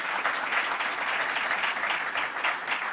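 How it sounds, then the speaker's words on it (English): An audience at a public event applauds County Executive Ben Metzger, with steady, dense clapping filling the room at an even level for the whole stretch, no voices heard over it. "let's give another round of applause to our County Executive"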